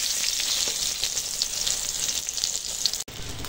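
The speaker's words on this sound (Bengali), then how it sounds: "এখন বেগুন চাপিয়েছি, একটু বেগুন ভাজবো।" Round brinjal slices fry in a pan, a dense, steady bright sizzle of oil that stays close and loud throughout, with one brief dropout near the end and no voices.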